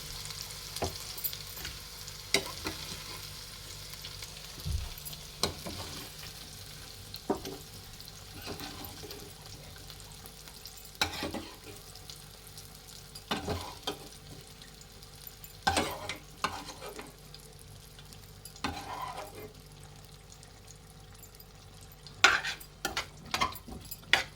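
Potato pieces sizzle steadily in a pan for a paneer and potato curry, with scattered scrapes and clinks of stirring. The sound is close but fairly quiet and no one speaks.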